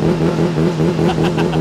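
A modified Honda CBR 600 motorcycle engine revs loudly and close by, holding a steady throbbing drone with a few quick throttle blips near the end.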